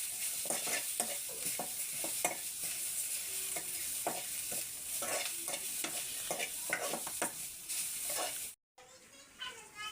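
Cucumber curry fries and sizzles in a pan while a spoon stirs it in repeated scraping strokes, close and fairly loud. The sizzle cuts out abruptly near the end, then resumes.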